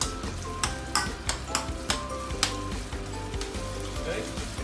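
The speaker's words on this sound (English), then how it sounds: "The reason why I keep stirring is because I don't want it to stick onto the bottom of my wok" Sambal chili frying in a wok over medium heat, a dense sizzle under repeated scraping strokes of a spatula stirring the paste, close and continuous.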